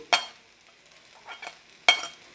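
Sharp metallic scrapes of a spatula against a wok stir-frying rice with prawns, two distinct strikes with softer stirring and faint sizzling between them.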